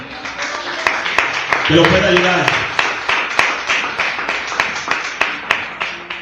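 Church congregation applauding during a sermon, a steady run of sharp claps beneath a preacher's voice that keeps talking over them, plus a brief swell of voices near the middle.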